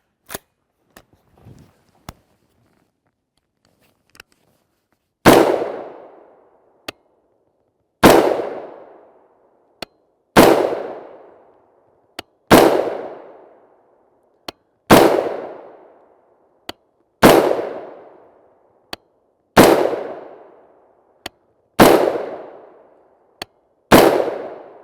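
AR-15 rifle firing 5.56x45mm 75-grain BTHP rounds outdoors in cold weather: about eight loud, sharp shots at steady intervals of roughly two seconds, each with a short ringing decay, plus fainter clicks between them.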